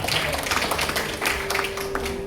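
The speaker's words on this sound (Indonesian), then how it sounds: "Tepuk tangan buat saudara" Church congregation at a Christmas service clapping hands, a dense continuous patter of many claps under low room noise and a faint sustained tone.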